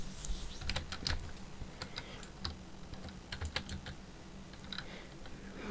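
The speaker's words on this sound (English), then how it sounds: "I'm sure you can hear me clicking my mouse, but nothing's happening." A computer mouse clicks repeatedly while a game is being played, giving quick irregular clicks and clatter close up, like busy desk input, with no one speaking.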